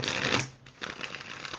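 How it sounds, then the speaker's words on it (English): Tarot cards being shuffled in two bursts of dense riffling, close and fairly quiet, with a short pause between them and no voice. "I gotta make sure all these dang cards are shuffled up good for you."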